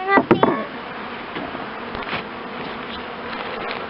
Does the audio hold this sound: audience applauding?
no